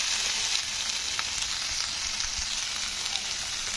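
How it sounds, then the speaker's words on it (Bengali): Ginger-garlic paste stirred and fried in a pan for a Bengali chital fish kalia, a steady close sizzle with faint scraping from the stirring, no voices. "তো আদা রসুনের পেস্টটা দিয়ে কিন্তু এইভাবে নাড়াচাড়া করতে হবে।"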